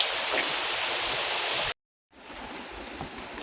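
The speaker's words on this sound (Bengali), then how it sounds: "বাইরে দেখো বৃষ্টি হচ্ছে" Rain falls steadily outside as a soft, even patter and hiss, briefly cut off, then resuming somewhat quieter.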